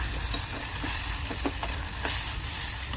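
Boiled peanuts and chopped boiled potato with salt sizzle loudly and continuously in a hot pan, a dense frying hiss with intermittent stirring scrapes close by and no talking.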